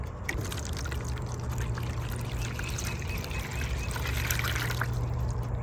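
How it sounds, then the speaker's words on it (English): Water poured into a hummingbird fountain basin in a garden, a steady splashing trickle close by over a low constant hum. "I'm going to pour some water in."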